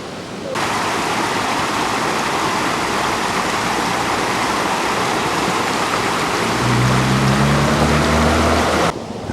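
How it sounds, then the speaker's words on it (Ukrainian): Floodwater rushes down Suvorova Street in Volovets an hour after a downpour, a loud, steady broadband torrent with a low engine-like drone joining near the end. "Навіть годину після зливи вода тече по річці, по вулиці"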